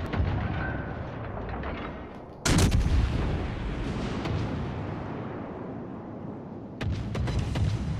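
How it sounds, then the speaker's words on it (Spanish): Naval cannon fire from a battle in World of Warships Legends, heavy booming salvos striking in two distinct loud blasts several seconds apart, each trailing into a long rumbling decay over steady game noise. "No pega cañonazos buenos este"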